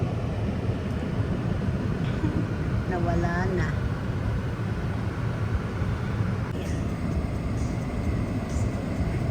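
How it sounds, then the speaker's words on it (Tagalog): An airplane flying overhead during cold weather gives a steady, broad roar that fills the whole stretch, with a person speaking briefly over it. "May eroplano."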